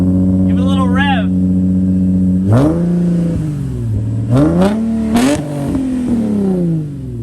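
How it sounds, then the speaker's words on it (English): A 2005 Infiniti G35 coupe engine, just back running after a rebuild, idling steadily and then revving up several times in quick, loud, close bursts that rise and fall, with a voice speaking briefly before the revs. "Give it a little rev."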